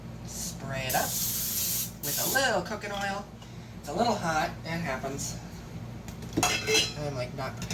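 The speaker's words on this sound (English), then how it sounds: "spray it up with a little cooking oil" Cooking oil sprayed into a hot pan while burgers start, short hissing bursts close by with a person talking over and between them.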